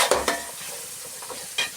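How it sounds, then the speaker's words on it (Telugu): A ladle stirs garam masala through a sizzling frying pan for fried rice, giving a few close scraping strokes against the metal over a steady hiss. "కొంచెం గరం మసాలా వేసుకుంటున్నాను. వేసుకొని గరిటెతో ఇలా తిప్పుకోవాలన్నమాట."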